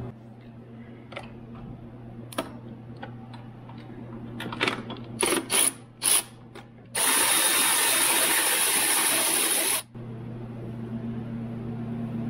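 A ratchet working on bolts in the engine bay of a Jeep Wrangler Rubicon JL, with scattered clicks early, a few sharp bursts, then a sustained loud whirring buzz for about three seconds before it cuts off to a low steady hum.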